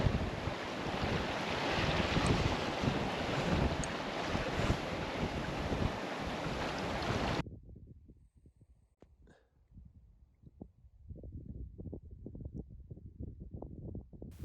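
Wind blows at sea in Port Pegasus on Stewart Island, a dense roaring rush buffeting the microphone for about seven seconds before dropping to a much quieter background with faint scattered knocks.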